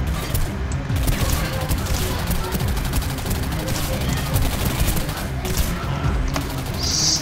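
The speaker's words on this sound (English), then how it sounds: "Stop shooting me." Gunfire rattles in the first-person shooter video game Singularity as bursts of automatic fire and shots crack in dense, overlapping volleys throughout.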